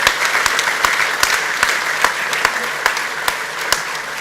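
Audience at an ethics and leadership in sports summit giving steady applause, a loud, continuous patter of many hands with sharper individual claps standing out, no voices.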